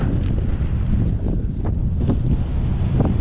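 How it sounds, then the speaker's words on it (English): Strong wind battering the microphone while cycling uphill on a country road, a loud, continuous low roar and buffeting with gusty surges throughout. "we're gonna fight the wind up a few big hills"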